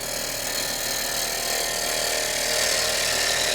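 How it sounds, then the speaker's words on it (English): A wooden turkey leg turning on a lathe while sandpaper is pressed against it, giving a loud, steady hissing drone under the hum of the spinning lathe throughout. "And you can actually sand this while it's spinning."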